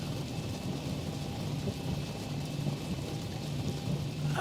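Steady rain drums without a break, heard from the cockpit of a Boeing 737 fixed-base procedural trainer during a night flight near Nashville; a dense, even wash of noise with a low rumble underneath, constant and fairly loud, with no voices.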